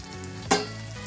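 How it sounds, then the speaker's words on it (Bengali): Spice masala for rui fish kalia frying in a pan, a close, steady low sizzle with one brief sharp stir or spatter burst in the middle. "ভালোভাবে মশলাটাকে আরেকবার কষিয়ে নিলাম।"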